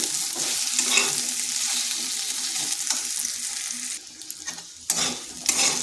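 Fish curry ingredients with a pinch of salt being stirred in a frying pan, a steady sizzle with scraping spoon strokes throughout, briefly quieter near the end before resuming, no voices.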